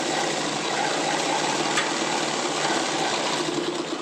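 A sewing machine stitches pant fabric at a steady, even whir that runs unbroken and close throughout, with no voices over it.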